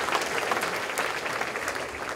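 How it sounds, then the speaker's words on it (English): An annual meeting audience applauds a district board member, steady dense clapping filling the room at moderate volume with no voices over it. "Let's give Kenneth a round of applause."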